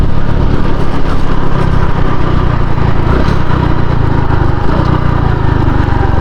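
A Honda Pop 110 motorcycle engine runs with a strange noise, a loud, close, continuous buzzing drone that holds steady throughout.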